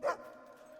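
A single short dog bark in the Fable II video game, soft and fairly distant, followed by a faint lingering tone.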